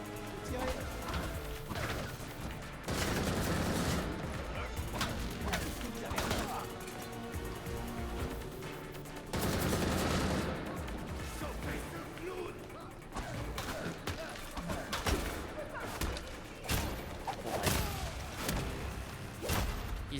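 Gunfire and impacts in the video game Gotham Knights, loud bursts and crashes mixed with game music and effects while characters talk throughout.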